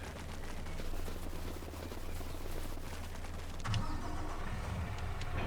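A truck engine starting and idling in the video game Farming Simulator 25, a low steady rumble with a sharper burst of mechanical noise partway through, no speech.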